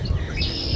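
Birds chirp and tweet along a nature trail in one brief burst, bright calls over a low outdoor rumble with no talking.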